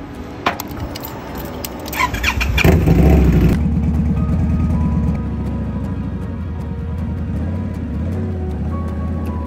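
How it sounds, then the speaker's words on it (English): A motorcycle starts up with keys jangling first, then the engine catches with a loud burst and settles into a steady, rumbling idle and ride close by on a cold day, with no talking. "So with that being said, let's get on the bike, take a ride, run these errands."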